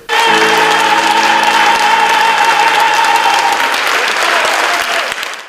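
Concert audience applause, loud, dense clapping from a large crowd held steady for several seconds with a sustained musical tone beneath it, tapering off at the end.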